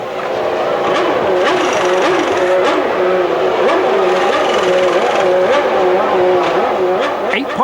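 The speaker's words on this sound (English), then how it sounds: "the second refuelling stops, as first Hill, then Schumacher, and on lap 46, Villeneuve come in" Formula One race cars circling the Nürburgring, engines screaming loud and steady with repeated rising and falling pitch sweeps as cars pass and shift, a continuous dense roar with no talk.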